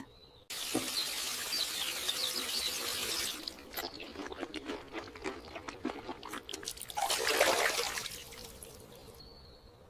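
Running water splashes and gurgles as someone rinses their mouth, a steady close stream broken by a burst of drips and a louder slosh toward the end before cutting off.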